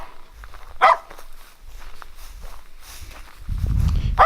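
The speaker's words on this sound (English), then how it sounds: "My dog is not happy at all of this new company." A dog in the woods barks at newcomers: two short, sharp barks, one early and one at the very end, with rustling and footstep-like movement between them and a low rumble building toward the close.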